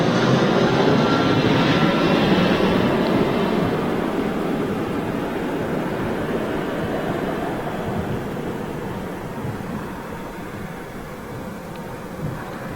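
An EasyJet airliner and an Airbus A380 passing over Manchester Airport, a broad continuous jet roar that slowly fades and softens as the aircraft move away.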